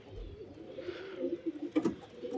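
Red-eyed Yakrim pigeons coo softly, with a few low, rolling calls and a brief flutter of movement nearby in a quiet setting.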